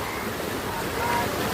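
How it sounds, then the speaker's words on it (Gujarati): Floodwater rushes over an overflowing village lake in Nandotra after heavy rain, a steady dense roar of moving water mixed with wind buffeting the microphone, loud and unbroken. "કેટલું બધું પાણી આવે."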